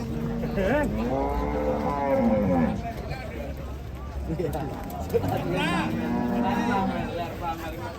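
Several cows moo loudly and repeatedly, long drawn-out lowing calls close by, with people talking in the background.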